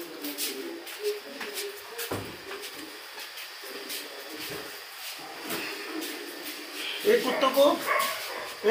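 Street dogs are fed outdoors, giving a few scattered barks and yips, mostly faint and in the background, under a person talking nearby.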